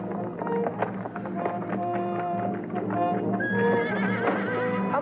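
Horses whinny loudly and clatter at a gallop in a 1963 Zorro adventure film, hooves thudding rapidly as several neighs rise above the hoofbeats, close and continuous without voices.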